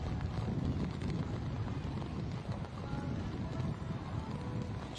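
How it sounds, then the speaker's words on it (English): Strong gusty wind buffets the microphone at an outdoor rugby sevens match in rainy weather, giving a steady, loud, low rumbling roar throughout with no clear talk. "Now, the good news is with this high wind, hopefully this rainy weather that we're enjoying blows through quickly."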